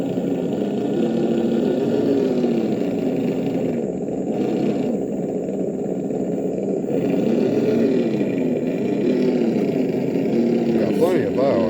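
RC crawler truck with an upgraded motor creeping at its slowest trim speed, a steady close whining hum with slight pitch wavers throughout.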